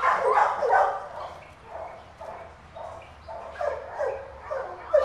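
A pet dog gives repeated soft yips and whimpering barks at close range in a home setting, rising and falling in a steady rhythm with no talking over it.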